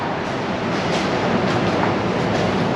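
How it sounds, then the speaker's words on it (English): New Delhi metro train running, a loud continuous rumble with faint rhythmic wheel clatter, close and steady throughout, no talking. "So guys, here is the metro."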